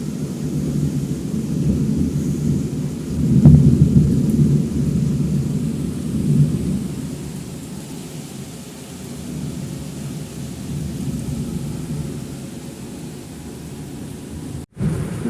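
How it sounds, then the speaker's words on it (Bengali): Heavy rain falls steadily outside a home with a flooded balcony, a continuous broad wash of noise with a low thunder rumble swelling near the start and no voices. "বাইরে বৃষ্টি পড়তেছে"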